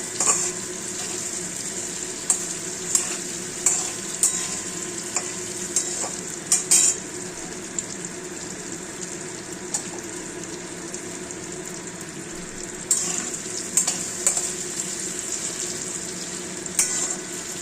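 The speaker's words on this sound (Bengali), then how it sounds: "আলুটা নুন হলুদ দিয়ে ভেজে নিচ্ছি" Potato pieces frying with salt and turmeric sizzle steadily and up close, while a spatula stirs and scrapes the pan throughout with scattered metallic clicks.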